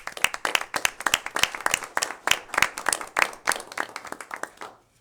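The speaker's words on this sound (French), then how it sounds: "Monsieur Binette, je pense que nous pouvons tous vous applaudir très chaleureusement." A council meeting audience applauding Monsieur Binette, heard as dense, lively clapping from a roomful of people for several seconds before fading out at the end.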